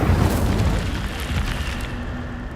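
Incendio fire spell cast in the video game Hogwarts Legacy, a loud whooshing burst of flame that roars briefly and then fades into a softer crackling tail.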